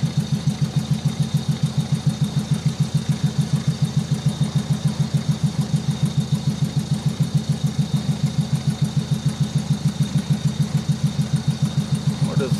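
Volkswagen Squareback engine running steadily while cruising, a loud, even low throb with a fast regular pulse throughout and no talking.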